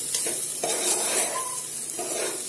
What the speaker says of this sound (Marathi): आता हे आपण छान परतून घेऊया.